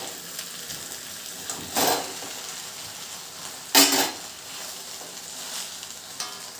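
Cooked basmati rice for Schezwan fried rice gets stirred in a pan over a quiet, steady sizzle, with two louder scraping sweeps of the spatula and a few lighter taps.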